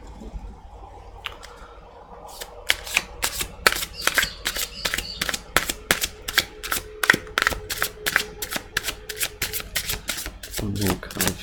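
Tarot cards being shuffled and drawn, with a quick run of crisp, evenly spaced riffling snaps that grows louder after a quieter start, then a soft shuffle near the end.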